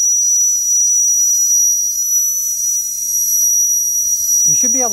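Small electrically heated model steam engine whistle sounding a steady, loud, pure high tone that holds for about five seconds, with a brief voice at the very end.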